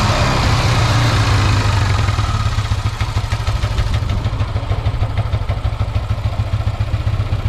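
A rebuilt Yamaha Aerox 155 scooter engine with freshly fitted, still-tight piston rings runs close by, giving a steady idling chug with mechanical clatter that eases slightly partway through.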